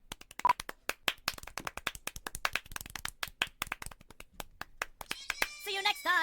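Rapid sharp hand claps from the video game Monkey Sans and the elevator, a loud irregular burst of single smacks running throughout, ending with a brief tonal game sound.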